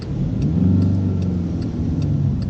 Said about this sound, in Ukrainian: І перша передача нітраль вмикаю правий показчик повороту, і зараз буде рушання під горку.